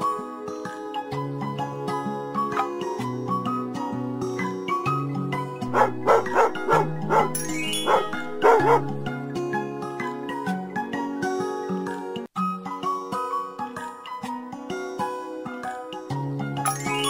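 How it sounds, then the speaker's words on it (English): A cartoon dog barks in repeated short yaps over a bouncy children's song about animal names and sounds, with a plucked bass line and chiming melody running throughout. "Dog."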